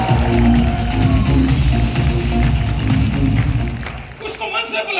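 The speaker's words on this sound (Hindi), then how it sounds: "एक तालियां दीपक के लिए हो जाए तो मजा आ जाए" An audience at a motivational MLM event claps and cheers for the anchor Deepak, a dense, loud wash of crowd applause that fades near the end.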